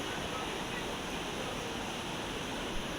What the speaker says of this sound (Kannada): ನೀರು ಹರಿಯುವ ಸೌಂಡ್ ಕೇಳಿ